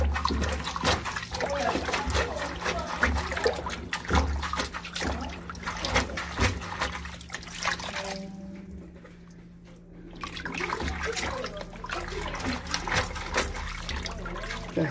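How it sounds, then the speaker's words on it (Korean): Wild bellflower roots washed by hand in cold water, with steady close splashing, sloshing and trickling that eases briefly midway, then resumes continuously. "배꼽을 다 제거하고 찬물에 넣어서 이렇게 쪼물럭 하면 이게 씻깁니다"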